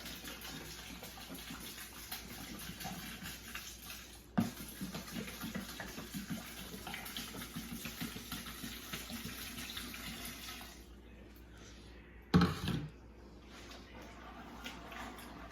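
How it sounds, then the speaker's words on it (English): Water runs steadily from a tap into a vessel, a continuous splashing rush with a couple of sharp clunks partway through. "So that's all you have left to do is to then put in your water."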